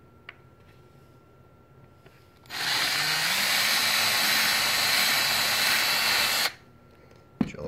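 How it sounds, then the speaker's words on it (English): A power drill whirs loudly for about four seconds, drilling a hole in a Ruger 10/22 magazine in a quiet room, starting and stopping abruptly, with a faint click just after it stops. "Drill a hole."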